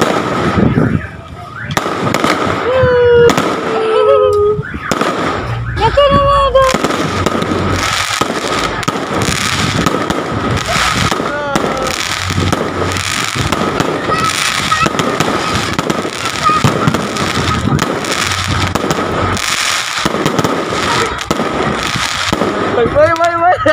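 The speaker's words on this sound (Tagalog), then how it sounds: "8 PM daw yung fireworks display ngayon." Fireworks bursting over the Clarin town center at night: loud, repeated booms and crackles for the whole stretch, with whistling rockets early on and people talking and exclaiming throughout.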